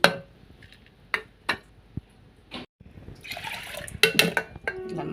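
Water splashing and trickling into a pot of black horse gram in short bursts, close and fairly quiet, with a few knocks and clinks between pours.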